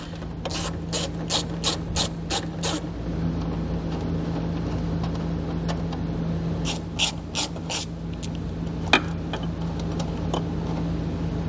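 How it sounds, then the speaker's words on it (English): A ratchet with a 10mm socket removes the tail light nuts on a vehicle: two loud bursts of rapid clicking, a scatter of single clicks and another run of clicks, all over a steady low hum. "we're going to take a 10mm socket and remove those nuts"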